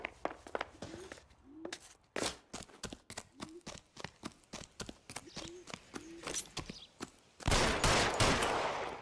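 Gunfire in a detective adventure video game rings out as a fusillade of sharp, close shots in irregular bursts with short tonal blips between them, ending in a louder sustained rush of noise.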